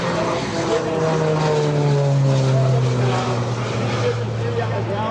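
A twin-engine Grumman warbird trailing smoke makes a low pass at the EAA AirVenture airshow. Its loud, steady propeller drone sweeps down in pitch as it goes by, with crowd and ambient noise underneath.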